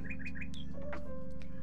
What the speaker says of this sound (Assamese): PARROT পেৰট পেৰট মানে ভাটৌ চৰাই